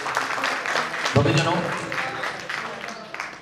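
Devotees at a jagran clap in a spirited round of applause while a voice keeps talking over the clapping.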